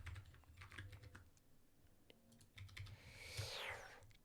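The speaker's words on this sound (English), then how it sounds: "Man, my typing is not good with this keyboard." Typing on a computer keyboard during a programming stream, a faint, steady run of quick key clicks close to the microphone with no talking.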